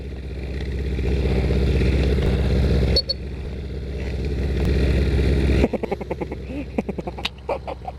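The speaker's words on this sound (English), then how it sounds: "I know this moped rider can do wheelies." A moped engine runs on a street, droning steadily and building louder over several seconds, then dropping off and picking up again with some clatter and sputtering near the end.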